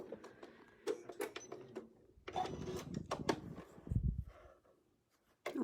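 A sewing machine double-stitches a quilt in quick, faint bursts of rapid mechanical clatter separated by short pauses, with soft handling noises in between.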